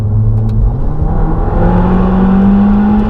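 A Peugeot 308 R Hybrid prototype accelerates hard from inside the cabin, its loud engine drone rising steadily in pitch over a few seconds with a constant heavy rumble and no talk.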